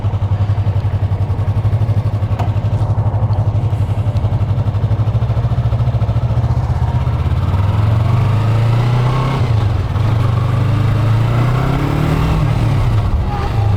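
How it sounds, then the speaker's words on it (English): Stock 2020 Yamaha YZF-R3 on the road, its engine droning loud and continuous under rushing wind, with the pitch rising and falling as the rider works through the gears; no talking. "2020 Yamaha R3 first ride"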